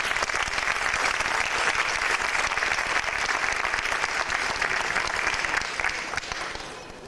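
An audience applauds steadily and warmly after a Slovak music and dance performance, a dense, even clatter of clapping that holds for several seconds and then tapers off at the end.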